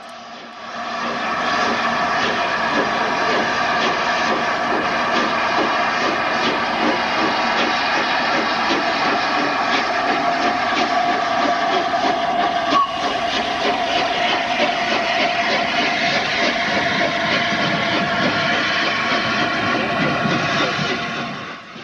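A steady, loud mechanical roar of a Thompson A2 Pacific steam locomotive departing with a train, with rhythmic chugging and rumbling that holds constant for the whole stretch, fading slightly at the end.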